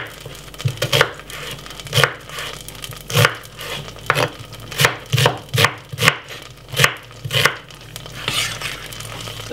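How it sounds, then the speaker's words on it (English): A knife chops through a white onion on a board in a home kitchen, about a dozen crisp, evenly spaced cuts sounding close and distinct with no voice. "now this is our white onion, which we're going to be cutting up"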